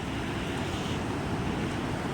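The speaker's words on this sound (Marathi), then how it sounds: "खूप गंगामाई आता खवळली आहे" The swollen Ganga river rushes in flood at Nashik with a continuous, loud broadband roar of churning water. Wind buffets the microphone, and no voices are heard.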